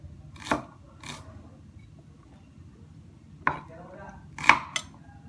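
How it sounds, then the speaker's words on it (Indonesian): A knife slices shallots into three pieces on a cutting board for sambal goreng. About five sharp, separate knocks sound close up, spaced unevenly over a few seconds against a quiet kitchen background. "Nah, bawang merah kita iris menjadi 3 saja ya."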